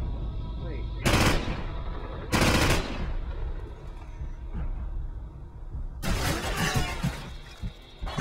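Bursts of automatic gunfire from Call of Duty 4 come in three loud, sharp volleys, each about half a second to two seconds long, separated by quieter stretches of game ambience.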